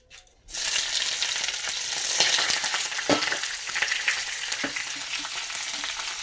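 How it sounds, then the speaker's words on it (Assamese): Onions and bay leaves hit hot oil and fry with a loud, dense sizzle, broken by a few stirring clinks and scrapes, and no voices over it. "এইখিনি হালকা ব্ৰাউন হোৱালৈকে মই ভাজি ল'ম"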